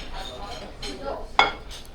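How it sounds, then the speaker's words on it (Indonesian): A spoon scrapes and clinks against a plate of nasi lemak rice at a Malaysian restaurant, giving a few light, close scraping taps that end in a sharp clink. "Kita sendok dulu"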